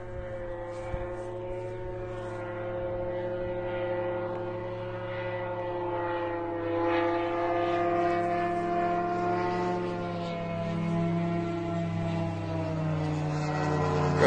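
Attack drones flying over an airfield east of Moscow, heard as a steady droning engine hum with a rising whine. It stays fairly faint and distant and continues for about fourteen seconds without any talk.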